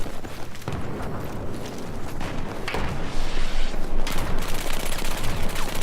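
Fast bursts of CZ submachine gun fire in a Battlefield 4 match, layered with other gunfire and booms, the shots crackling rapidly and growing louder and denser toward the end, with no talk.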